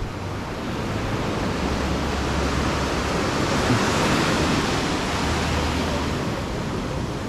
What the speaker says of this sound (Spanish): está bueno como para los surfistas, a los que les encantan las olas grandes